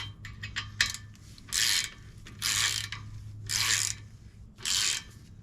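Ratchet wrench clicking in four separate bursts while tightening bolts during a brake pad change on an FL5 Honda Civic Type R, close and moderately loud over a low steady hum, with pauses between bursts.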